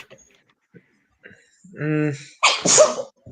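A single sharp sneeze bursts out after a brief murmured voice, close and fairly loud in a quiet room.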